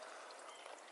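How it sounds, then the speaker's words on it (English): Water pours out of a trail water source along the Pacific Crest Trail in Northern California, a faint steady rushing splash heard alone for a moment. "Look at that, it's so much water coming out."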